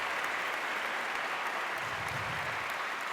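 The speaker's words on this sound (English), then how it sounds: "A huge round of applause to each and every person who made sure that this" An audience applauds at a corporate stage event, dense steady clapping filling the hall without pause from start to finish.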